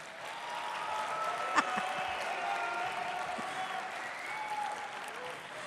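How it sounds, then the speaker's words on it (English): Steady applause from a large audience at a spring convocation ceremony, a sustained wash of clapping that holds evenly for the whole stretch, with a brief sharper clap standing out near the middle. "Let's give them a round of applause."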